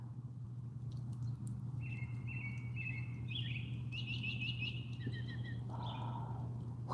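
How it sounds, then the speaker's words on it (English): A small bird sings in a cedar tree, a run of high repeated chirps and trills at moderate distance over a steady low hum, with no talk. "that's a nice bird"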